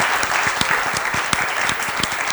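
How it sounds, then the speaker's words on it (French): An audience claps steadily and enthusiastically, a dense wash of applause that continues throughout without pause. "applaudissements encore pour lui."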